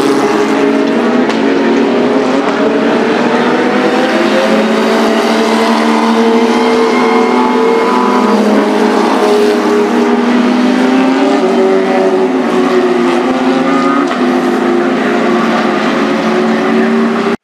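IndyCar race cars at Mid-Ohio during the Honda Indy 200 pass on track, loud, continuous engine roar with rising and falling pitch as cars speed by and one is overtaken.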